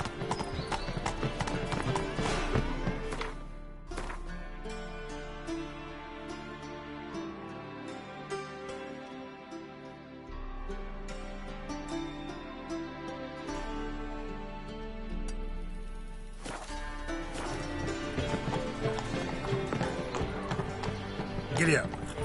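Horse hooves clip-clopping at a gallop in The Witcher 3, a steady rhythmic beat running under game music, with speech also present.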